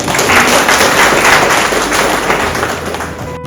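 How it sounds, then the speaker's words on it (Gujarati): An audience applauding at a public launch event for a 100-day clothing-donation mission in Banaskantha, sustained dense clapping at steady loudness for several seconds before easing off at the end. "એટલે પહેલાં તે બધા માટે આપણે તાળીઓ પાડીએ."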